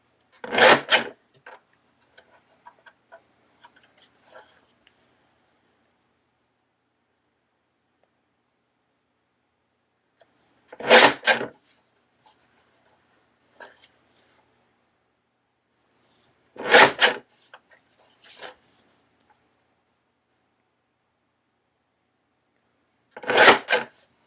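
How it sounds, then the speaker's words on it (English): A Tim Holtz deckle trimmer slices through paper for a handmade card in four short, crisp rasping strokes spaced several seconds apart, with quiet gaps and faint handling noises between them. "To cut these out, I'm just going to go ahead and use my decal trimmer."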